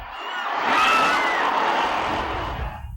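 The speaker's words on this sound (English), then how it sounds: "and now the most exciting event of all, monster truck racing." Monster truck engines roar loudly in a race, a broad, throaty rumble that swells and holds steady for a few seconds with no speech.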